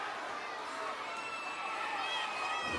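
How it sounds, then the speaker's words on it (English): Crowd noise at a fight event in Morgan City, a dense continuous roar of cheering and chatter filling the space, steady and fairly loud, with a voice mixed in. "Listen to this crowd."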